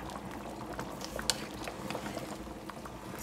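Haitian soup joumou simmers under a lid in a pot, giving a low, steady bubbling with faint occasional clinks, close and continuous with no talk over it.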